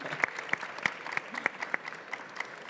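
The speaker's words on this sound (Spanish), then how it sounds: "Un aplauso para los ponentes y muchas gracias." Light applause from a small audience for panel speakers at a defence conference, with distinct claps at a steady, scattered pace throughout.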